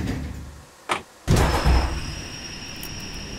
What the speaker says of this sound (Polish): Zamknij drzwi przełącznikiem.